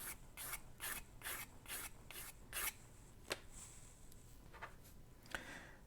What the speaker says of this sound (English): I'm just using a medium grit sandpaper. This is probably 220. And just gently sort of sanding